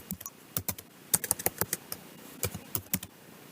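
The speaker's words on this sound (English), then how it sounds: "So I type in equals match." Fingers tap out a short formula on a computer keyboard, a quick uneven run of crisp, close key clicks with brief gaps between bursts and no talking.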